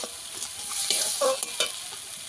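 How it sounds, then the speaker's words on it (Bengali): Spice paste for chicken curry frying in oil in a pan, a steady close sizzle with soft stirring scrapes running throughout, no voices. "মশলা আমি ভালো করে কষিয়ে নিয়েছি। মশলা থেকে তেল তো ছেড়ে গেছে ভালোভাবে।"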